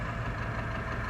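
A truck engine in the RoadCraft video game idles in a steady, close low rumble with no break and nothing else over it.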